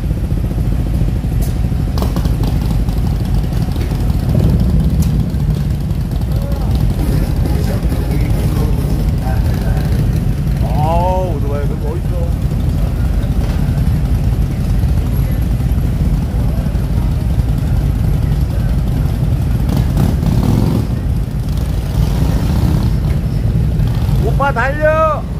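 Motorcycle engines drone and rev continuously, loud and close, while people talk over the noise.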